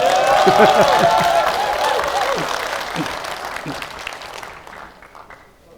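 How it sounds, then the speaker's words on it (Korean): Audience applause at a political report meeting, a dense crowd of clapping that starts loud and gradually thins and fades over several seconds, with voices mixed in. "여기서 박수를 치셔야 돼요"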